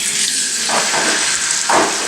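Salted chicken laid into hot olive oil in a pan, a loud close sizzle and hiss that swells sharply twice as pieces hit the oil.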